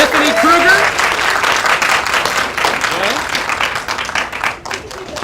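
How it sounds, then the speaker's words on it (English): An audience at a college communications studies student showcase claps for the student participants, a dense burst of applause with a few whoops that gradually tapers off. "So give them a round of applause"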